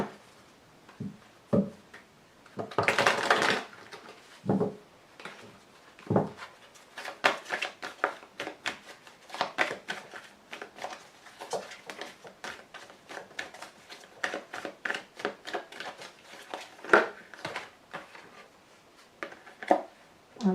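Lenormand fortune-telling cards are shuffled and drawn, with a dense riffle of cards early on followed by many soft, irregular card snaps and taps, close and fairly quiet.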